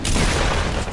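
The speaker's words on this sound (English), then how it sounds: "why are they shooting?" Gunfire in a multiplayer shooter video game, a dense, loud burst of rapid shots and booms packed into one second, with no talk over it.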